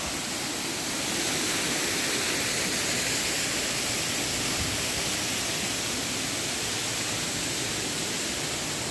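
Lumsdale waterfall near Matlock in the United Kingdom pours in a steady, full roar of broadband rushing water, close and continuous without a break, with no voices over it.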